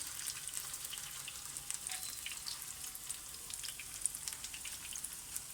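Potato kebabs frying on a low flame for a Pakistani recipe, a continuous close crackling sizzle with scattered pops and spits, steady throughout with no talk.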